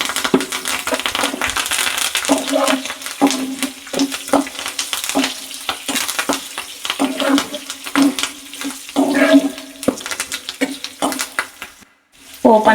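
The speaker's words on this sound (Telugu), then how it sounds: "పోపు అంతా బాగా వేపుకోవాలి," Tempering spices, garlic, green and dried red chillies and curry leaves fry in hot oil in a pan, a steady close sizzle with frequent stirring clatter and scraping throughout, briefly dropping out near the end.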